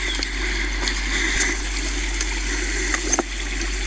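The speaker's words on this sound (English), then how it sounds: "We're crossing a small stream here." A small mountain stream in the Mahabaleshwar jungles flows steadily while being crossed, a constant close rushing and trickling with a few faint splashes near the end, no talk.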